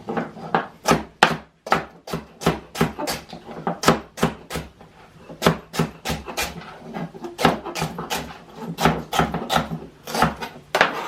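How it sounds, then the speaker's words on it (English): Knife chopping carrots on a cutting board for a hamburger squash and zucchini soup, a steady run of sharp, close knocks in an uneven rhythm with brief pauses. "for the carrots, we're just going to slice them"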